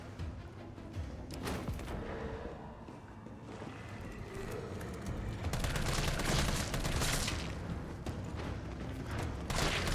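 Grenade blast and gunfire in the Resident Evil 3 Remake video game, a dense, loud wash of shots and rumbling impact that swells after the midpoint and stays busy to the end, with no speech.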